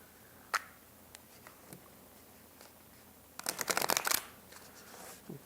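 Tarot cards riffle-shuffled close by in a quiet room, a few soft taps followed by a dense burst of rapid flutter, with no voices.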